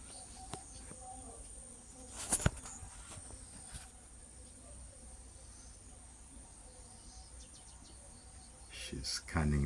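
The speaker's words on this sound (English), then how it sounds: "ibis bird sounds." Ibis birds call amid a steady chorus of insects in the bush, with a couple of sharp, brief cries standing out near and far against the constant buzzing and chirring.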